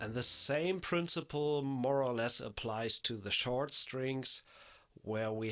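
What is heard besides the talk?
No everyday noise stands out behind the speech.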